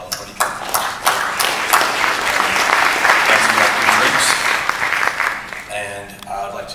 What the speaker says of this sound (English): I'd like to give a round of applause to Telefonica.